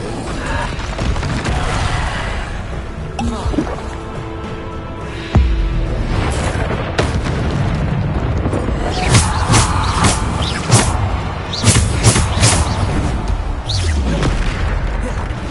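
Bombarda spell explosions in Hogwarts Legacy burst repeatedly amid a loud, dense combat mix of booms, crashes and magical impacts, with several sharp blasts clustered in the second half.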